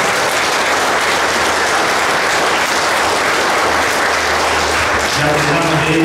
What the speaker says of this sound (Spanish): Vamos a darle un fuerte aplauso a San José